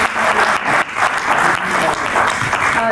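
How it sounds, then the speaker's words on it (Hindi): An audience at a panel discussion on ancient Indian wisdom gives a dense, continuous round of clapping that fills the whole stretch at a steady loud level. "सो एक बार तालियों से स्वागत करते हैं।"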